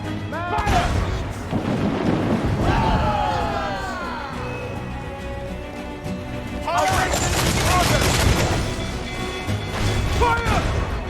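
Ship cannons boom in a naval battle in the game Assassin's Creed Freedom Cry, heavy repeated blasts and crashes in two loud bursts, mixed with shouted voices and battle commotion.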